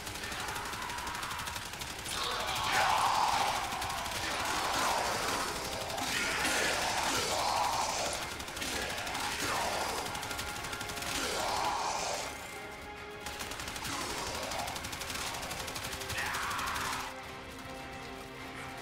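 Soma Prime assault rifle fired in non-Incarnon mode in Warframe, bursts of rapid automatic gunfire with impact cracks and game effects, fairly close, several sustained volleys separated by brief pauses.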